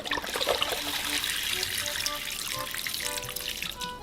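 Soft water poured while making dashi in a home kitchen, a steady trickling, splashing stream into a pot, close and continuous without speech.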